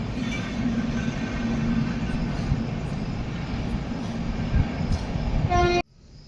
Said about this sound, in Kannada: ಟ್ರೈನ್ ರೀ ಹೊಂಟೈತೋ ಏನು ಗೊತ್ತಿಲ್ಲ